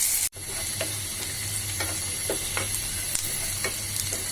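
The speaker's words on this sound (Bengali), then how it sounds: "পেঁয়াজ রসুন ভাজা হচ্ছে।" Chopped onion and garlic fry in a pan with a continuous close hiss and sizzle, punctuated by light spatula taps and scrapes at irregular intervals.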